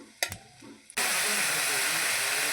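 Vegetables dropped into a pan of garlic frying in hot oil, a sudden loud steady sizzle bursting in after a few light clatters and then hissing continuously.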